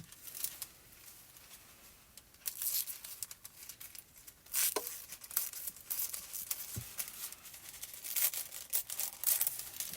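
Sheet of dark green hot foil being cut, with faint close crinkling, snipping and rustling in scattered bursts.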